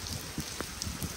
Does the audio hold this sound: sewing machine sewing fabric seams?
no